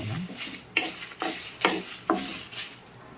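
Curry leaves frying in a pan for karivepaku kaaram, a steady close crackling sizzle broken by several sharp spatula scrapes and taps against the pan.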